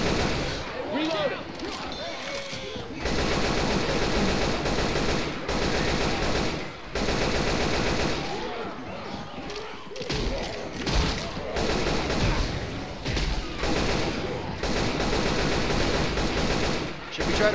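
Rapid gunfire from automatic weapons in the zombie shooter Left 4 Dead 2, bursts of shots rattling through most of the stretch with brief pauses, loud and close, with players talking over it.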